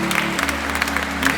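Applause from the audience at a charity concert, a close, steady patter of many clapping hands over a low hum, with scattered louder claps and no speech.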